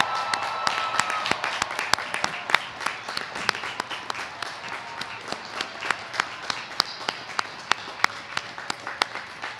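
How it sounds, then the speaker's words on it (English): A graduation ceremony crowd at UNC Charlotte applauds the graduates, with sustained dense clapping and sharp individual claps standing out throughout, steady and fairly loud. "Please, everyone, join me one more time in applauding all of the graduates"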